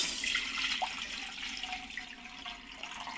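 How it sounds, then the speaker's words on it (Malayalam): Water is poured into a flat pan for ripe mangoes, making a continuous close splashing and trickling that eases slightly toward the end. "അതിലേക്ക് നമുക്ക് വെള്ളം ഒഴിച്ചു കൊടുക്കാം"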